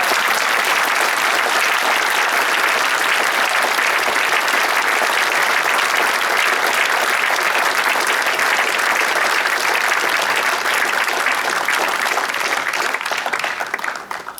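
Audience at a charity fundraiser auction in St. Louis applauding, a dense, sustained wash of many hands clapping that holds steady and begins to taper at the end.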